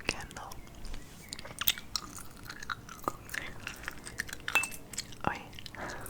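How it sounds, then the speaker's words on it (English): Soft, close chewing of gum, with wet smacks and small clicking bites repeating irregularly at low volume, while a quiet whispering voice murmurs underneath. "just wanted to do another ASMR chewing ramble"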